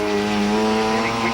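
A Mazda RX-7 race car climbs the Collingrove hillclimb course at the 1994 Australian Hillclimb Championships, its engine a loud sustained buzz close by with a steady pitch and a hint of tire squeal.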